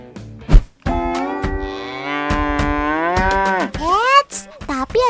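Gama cattle, a large, muscular breed, moo loudly and close by. Several long, drawn-out lowing calls rise and fall one after another.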